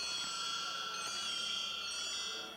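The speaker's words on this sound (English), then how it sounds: "No, this is actually a bell tree. It's a nest of bells, and they get smaller. So as you play it, the pitch gets higher." A bell tree, a nested stack of graduated bells, shimmers as it is played. Bright, high ringing partials sustain and overlap at an even level, with no voices.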